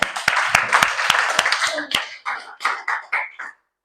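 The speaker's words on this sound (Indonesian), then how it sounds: "Beri tepuk tangan dulu." Students in a high school classroom clap together, a short burst of close, sharp handclaps that turns into a few scattered, uneven claps before stopping.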